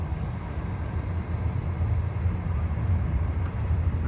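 A long train keeps rolling by close at hand in China, near the Mongolian plains, as a continuous low rumble with faint high clanks and no talk.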